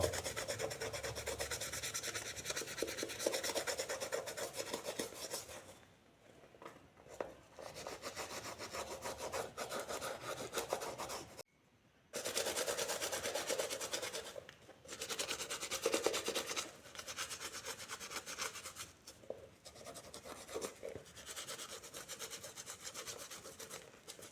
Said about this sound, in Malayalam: ഷൂവിൽ നല്ല രീതിയിൽ ഇതുപോലെ ഉരച്ചു കൊടുക്കണം